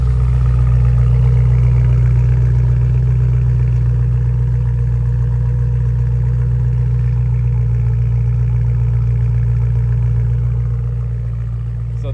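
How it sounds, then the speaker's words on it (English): 2011 BMW M3 with an aftermarket IP exhaust and valves open, idling with a deep, even droning hum for several seconds, close and loud, dropping slightly near the end. "let me go ahead and get an exhaust clip now that the exhaust is finally open again"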